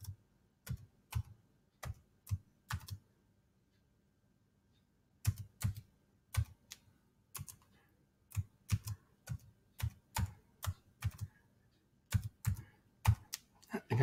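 A password is typed on a computer keyboard in short bursts of sharp, close keystrokes, with a pause of a few seconds partway through and quiet room tone between the bursts.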